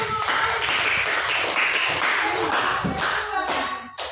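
Students in a classroom clap together in a loud, sustained round of applause, with rhythmic hand claps and some voices mixed into the noise.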